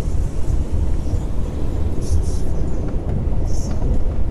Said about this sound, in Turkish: Uçak indi. Kamera yukarıyı gösterseydi tepemden geçti.